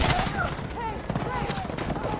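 Dense video-game gunfire in a chaotic shooter battle, loud bursts and rattling shots packed together over a continuous noisy mix of effects and voices.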